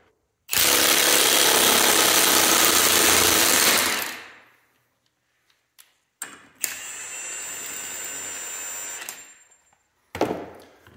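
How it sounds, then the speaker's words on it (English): A Milwaukee cordless impact wrench drives a clamshell bearing puller against a pinion bearing, in a loud sustained hammering burst and then a second, shorter run after a pause, close by and with no speech. "I have the Milwaukee cordless, and then you just start impacting it until the bearing starts releasing"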